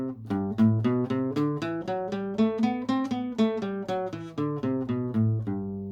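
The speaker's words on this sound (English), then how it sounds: "A straight feel will be like this." Jazz arrangement played with a straight, even rhythmic feel: a steady run of evenly spaced keyboard-like notes and chords over a low bass line, moderately loud, with no voices.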